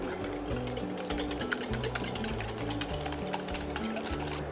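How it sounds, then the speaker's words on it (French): A wire whisk beats sugar into a crème brûlée mixture in a bowl, a steady, dense run of fast scraping and clicking strokes over background music. "Et là, je mélange bien avec mon fouet."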